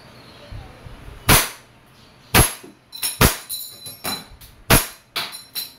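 A WE 5.1 Type R airsoft pistol fires on semi-automatic, a series of about ten sharp, separate cracks at uneven intervals with quiet gaps between them. The shots are close and fairly loud.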